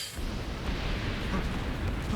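Explosions in a video game come through as a continuous, dense rumbling roar that holds steady at a fairly loud level for the whole stretch, with no clear separate blasts.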